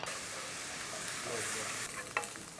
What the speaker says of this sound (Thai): เราผัดเบคอนของเรานะครับ ให้ได้ความสุกตามที่เราต้องการนะครับ